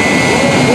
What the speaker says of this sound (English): an awesome display of the jet engine fire